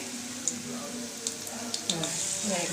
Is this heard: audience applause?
no